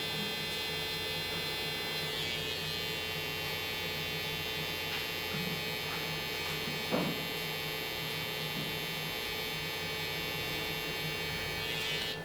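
Steady electric hair clipper buzz runs throughout while trimming and aligning a taper haircut, close and continuous with a faint hum, with no talking over it.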